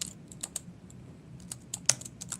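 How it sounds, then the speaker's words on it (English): Someone types on a computer keyboard while entering commands in PowerShell, producing quick irregular clicks in short bursts, close and fairly quiet with no talk. "So if I start typing over here"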